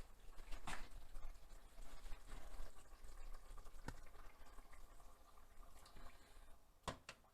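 Water poured into a pan of rice cooking with wine and tomato for a Spanish arroz, giving a soft, steady bubbling and trickling wash with a few sharp clinks, quiet and close.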